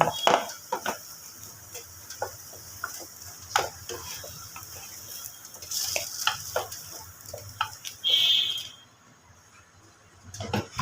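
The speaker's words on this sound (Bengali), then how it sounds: "বড়াগুলো ভাজা হয়ে গেছে আমি এবার বড়াগুলোকে তুলে নেব এইরকম একটা বাটিতে" Fried red lentil fritters are lifted from a pan of oil into a bowl. Sharp scattered clinks and taps of a utensil against metal ring over a soft, continuous sizzle, with a short quiet gap near the end.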